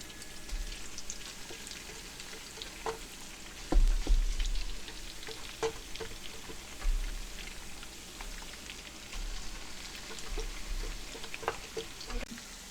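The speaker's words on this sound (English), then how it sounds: "Next I'm going to add my blended tomatoes." Blended tomatoes pour into onions frying in hot palm oil for a Nigerian stew, a steady crackling sizzle with a louder burst of spattering as the puree hits the pan, then continued popping and hissing.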